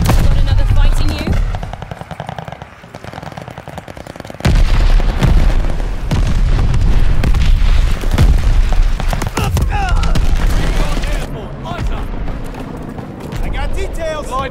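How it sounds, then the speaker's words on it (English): Mortar barrage in Call of Duty: Vanguard Team Deathmatch, loud booming explosions mixed with rattling machine-gun fire, dense and continuous battle noise with voices speaking over it. "Allies calling a mortar barrage."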